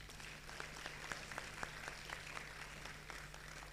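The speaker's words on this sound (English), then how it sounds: "Please help me with a very big round of applause." Thin, scattered applause welcoming a speaker on a campus tour event, individual claps fairly distinct over a low steady hum, moderately faint and lasting a few seconds.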